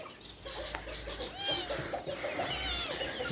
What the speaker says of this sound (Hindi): ये हमारे सेटअप पर है बिल्ली।